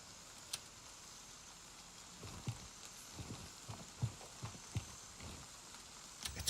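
Rain in Gray Zone Warfare striking a surface in soft, irregular thuds that mimic footsteps, faint over a steady background hiss with no talking.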